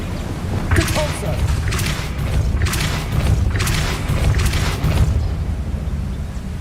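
The Depulso spell is cast in the Hogwarts Legacy video game: several booming, thudding bursts in sequence, loud and close, spaced about a second apart over a low rumbling background.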